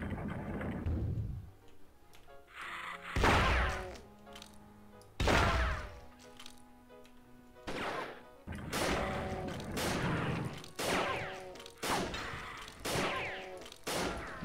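Heavy booming video-game cannon blasts go off in irregular succession, a sharp crack followed by a rumbling tail each time, loud and close.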